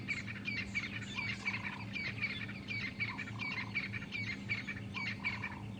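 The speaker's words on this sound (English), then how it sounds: "I can hear the magnificence of the dawn chorus. Beautiful francolins calling, some drongos, doves." A busy dawn chorus on an African safari drive: crested francolins give repeated harsh, rhythmic calls cycling over and over, with drongos and doves, above a low steady hum, at moderate distance.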